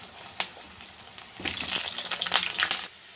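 Potato pieces drop into hot oil with dried red chillies, bay leaves, cardamom, cinnamon and cloves, bursting into a loud, crackling sizzle after a few faint clinks, close by and without speech.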